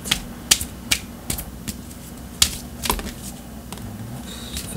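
Tarot cards handled and drawn from a deck, sharp dry clicks and slaps landing one by one at irregular intervals, close and distinct over a faint low hum, with no talking.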